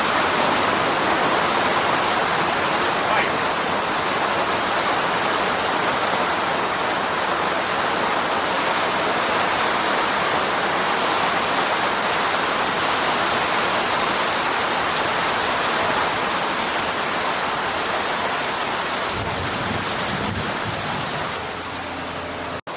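Heavy rainstorm pounding a sailboat at sea in the Exumas, a dense, steady roar of rain and wind that stays loud and unbroken throughout, easing only slightly near the end.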